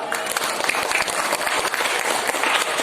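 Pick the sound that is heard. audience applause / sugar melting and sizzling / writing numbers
audience applause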